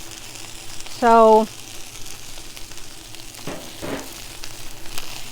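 Green beans and Brussels sprouts sauté on a flat griddle with a soft, steady sizzle, while someone speaks briefly over it.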